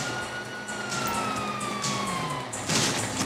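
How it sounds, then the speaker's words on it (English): Police car sirens in Grand Theft Auto 5, a wailing tone sliding downward over vehicle rumble, with a burst of louder noise toward the end. "hear that? Sirens!"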